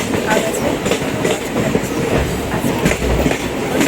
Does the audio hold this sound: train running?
yes